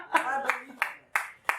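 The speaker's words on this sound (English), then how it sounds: "Hand clap." A single person claps at a Houston cannabis reform meeting with the district attorney: four or five spaced, crisp claps at a steady slow rhythm, nearby and moderate in level, trailing off after a brief voice at the start.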